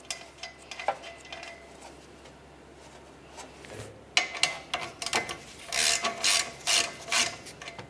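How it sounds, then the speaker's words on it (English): A socket wrench ratchet turns a plug counterclockwise on the exhaust of a 2004-2006 Scion xB, giving close rapid clicking strokes, sparse at first, then a dense run of quick ratcheting near the end. "Use your socket, turn it counterclockwise to remove it."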